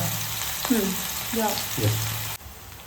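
Anjal fish, prepared as a green tawa fry, sizzles steadily in oil on a hot tawa, a close, continuous frying hiss with a few brief movements of a spatula or the pan partway through.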